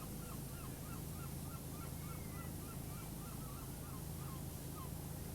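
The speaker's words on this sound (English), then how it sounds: "Listen to those seagulls go." Seagulls call repeatedly in Powerwash Simulator, a run of honking cries at regular intervals set against a steady background wash of ambience, fairly quiet and distant with no talking.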